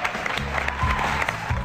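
An audience applauds a singer leaving the stage at a televised talent show gala, steady dense clapping throughout with faint crowd noise.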